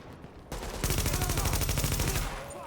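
Sustained automatic gunfire in the video game The Division, a loud, fast rattling burst of shots that begins abruptly and carries on for about two seconds.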